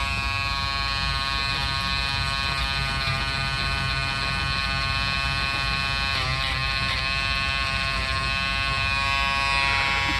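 An electric fabric shaver buzzes continuously close up as it is moved back and forth over fabric, a steady loud motor whine with slight changes in pitch as it passes over the cloth.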